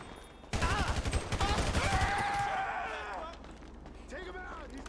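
Rapid bursts of automatic gunfire from GTA V's story mode ring out loud and close, then fade into a rattling tail. A voice speaks over the shooting.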